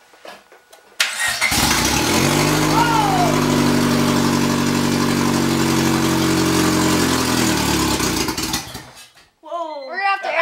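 A turbocharged Honda D16Y8 engine cranks and fires up abruptly, then runs loud and steady with a deep droning idle for several seconds before cutting off, followed by people talking excitedly.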